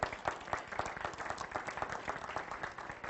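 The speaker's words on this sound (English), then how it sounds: "a big round of applause for the MACP" Applause for members of the MACP at a talk, a thin, uneven patter of individual claps from a modest gathering, quiet and fairly close, with distinct separate hand strikes rather than a dense roar.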